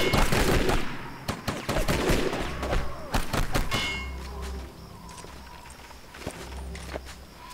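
Gunfire from the shooter game Shadow Harvest: Phantom Ops, a run of sharp shots and metallic clangs with bursts packed into the first four seconds, then sparser, quieter reports and low rumble.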